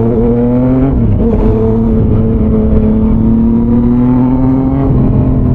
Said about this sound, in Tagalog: Traffic naman.